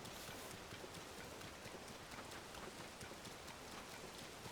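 Steady rainfall in The Legend of Zelda: Tears of the Kingdom, a dense, even hiss of drops on surfaces that runs unbroken throughout at a moderate, close level with no voices.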